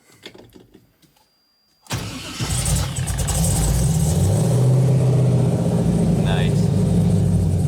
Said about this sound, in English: So the cold start's definitely a lot better than it used to be